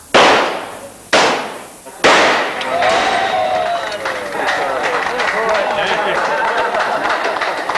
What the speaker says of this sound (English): First stop is the shooting range.